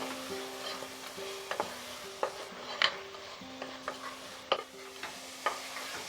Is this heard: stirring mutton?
yes